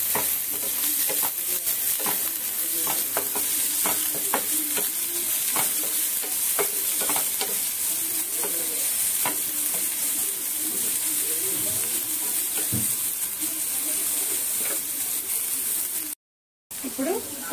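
Omelette mixture with onion leaves frying in a pan, a steady loud sizzle with scraping stirs of a spatula throughout, and a brief dropout near the end.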